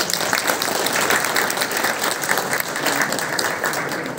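An audience claps for a primary school choir at a Maritime Days event, with vigorous, sustained applause from many hands that stays loud and continuous without a break.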